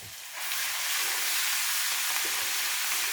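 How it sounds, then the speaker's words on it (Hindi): Ginger and garlic frying in oil for Pakistani dal mash, a steady loud hiss that jumps up sharply as the ingredients hit the pan and then holds evenly, with no talking. "तकरीबन कोई आधा मिनट जो है ना लहसुन अदरक को भूनें"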